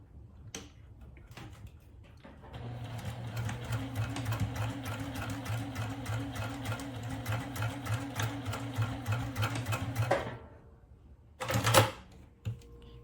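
An electric sewing machine stitches fabric for a tissue holder in one steady, rapid mechanical run of about eight seconds, close and clear, with faint handling clicks before and a short rustle of fabric after.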